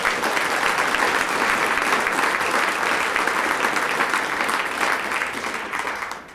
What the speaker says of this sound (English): Let's give a big round of applause for Tom Brozer.